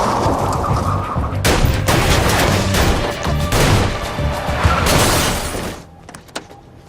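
Film gunfight with dense bursts of rapid gunfire and crashing impacts, loud and sustained for several seconds before cutting away to near quiet.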